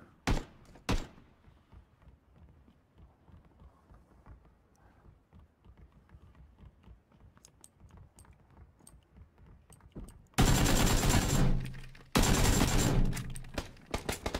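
Suppressed gunfire in PlayerUnknown's Battlegrounds: faint muffled ticks early on, then two loud, dense automatic bursts of about two seconds each near the end.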